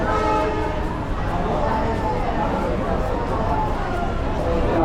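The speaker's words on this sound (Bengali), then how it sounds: "তিনটে বেজে আঠাশ মিনিটে আমাদের ট্রেন সাঁতরাগাছি স্টেশনের দু নম্বর প্ল্যাটফর্ম থেকে রওনা দিল" A train pulling away from platform two at Santragachi station on the Howrah to Digha route, a steady dense rumble of wheels and engine with a horn sounding, continuous and fairly loud throughout, with voices mixed in.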